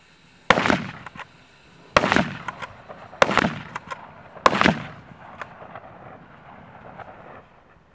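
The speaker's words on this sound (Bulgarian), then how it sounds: "Ще пробваме по 2 изстрела в двата просвета" Rifle shots at an outdoor shooting range comparing bolt-action and semi-automatic rifles, four loud sharp cracks in two closely spaced pairs with echoing reverberation and a few fainter distant reports trailing after.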